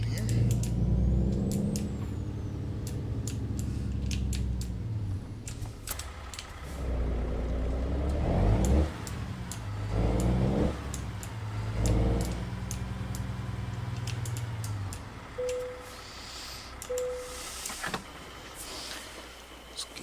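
Volvo truck in American Truck Simulator pulling into a gas station, a steady low diesel engine rumble with shifting revs, a couple of brief hisses, and voices talking over it.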